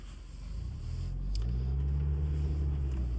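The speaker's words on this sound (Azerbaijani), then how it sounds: "Mən özüm qaz möhkəm verirəm ki, getsin." A Kia Sportage with a slipping gearbox is pushed hard on the throttle during a test drive. Its engine rumbles low and steady and builds to a sustained loud drone with rising tone, heard from close inside the car.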